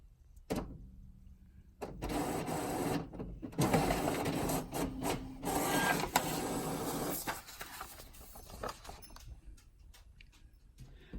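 An inkjet printer runs a quilt label through, starting with a click and then whirring and shuttling in bursts of mechanical clatter before winding down to quiet.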